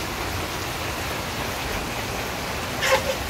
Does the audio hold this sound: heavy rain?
yes